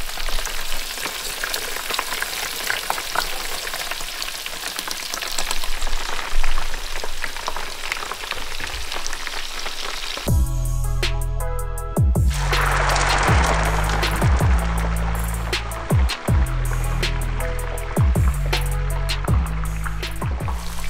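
Close crackling fizz and rapid tiny pops of a large amount of popping candy fizzing in water, giving way to a steady sizzling with a repeating low background tone.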